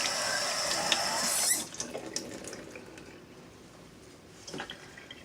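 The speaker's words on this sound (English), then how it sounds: "let me wash my hand off." Tap water runs over a hand at a kitchen sink for about a second and a half, a steady hiss that cuts off, followed by faint drips and small clatters.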